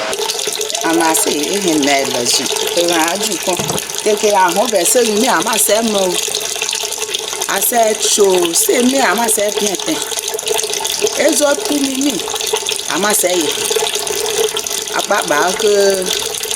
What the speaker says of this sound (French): l'état de l'eau qui coule désormais du robinet rassure les consommateurs